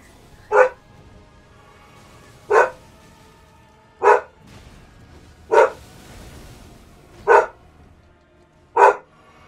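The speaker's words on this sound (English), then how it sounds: "No, no barking, Sreza." A dog barks six times at steady intervals of about one and a half to two seconds, each bark sharp, close and fairly loud, with quiet between them.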